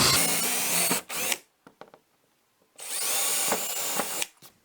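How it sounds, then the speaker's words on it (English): Power drill boring slowly and straight through a wooden door to fit a cat door, two sustained whining bursts of cutting separated by a brief pause with small knocks, close and loud. "Make sure you're holding the drill as level and straight as possible."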